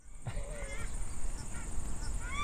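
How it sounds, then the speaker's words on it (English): Paradise ducks squawking and honking out in the open during a deer hunt, a run of harsh, repeated calls that keeps going over steady wind and background noise. "that particular hunt was completely ruined by those squawking paradise ducks"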